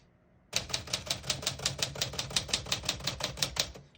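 Keys strike steadily on a 1953 Smith-Corona Silent-Super portable typewriter, a close, even run of about twenty crisp clacks at a brisk, regular rhythm, alone in a quiet room.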